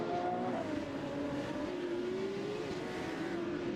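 A Ferrari 250 Testarossa with a 3-litre V12 rated at 300 horsepower races at Imola, its engine droning steadily at a distance with a slowly shifting pitch and no voices over it.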